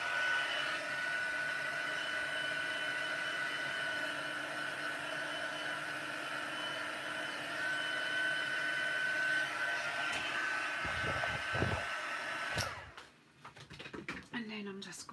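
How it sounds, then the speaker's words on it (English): A heat gun blows on painted kraft card with a steady, moderate whirring hiss that runs for about twelve seconds and then cuts off, followed by scattered handling noises up close. "So just give them a wee blast again with the heat gun."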